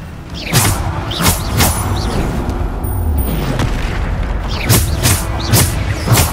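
In Hogwarts Legacy, the Descendo spell slams a target down with several heavy booming thuds, a pair near the start and another cluster near the end, over a steady rumbling game backdrop.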